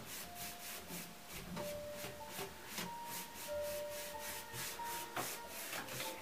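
Rhythmic back-and-forth rubbing as a cloth wipes excess chalk paint off a wooden dresser, close and steady with evenly spaced strokes throughout.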